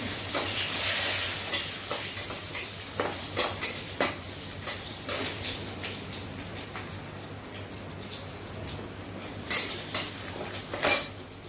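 Bay leaves drop into hot oil in a pan, giving a continuous soft sizzle broken by repeated clinks and scrapes of a utensil stirring against the metal.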